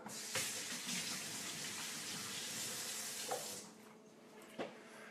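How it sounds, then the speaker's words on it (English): Running tap water splashes steadily over hands at a kitchen sink, a close, even rushing stream with a couple of small knocks, then cutting off near the end, leaving quiet. "Let me wash my hands real quick."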